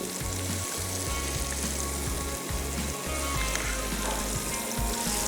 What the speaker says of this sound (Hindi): क्रंची बीन्स जितना धीमी आंच पे फ्राई करेंगे ना, लेकिन तेल खूब गर्म होना चाहिए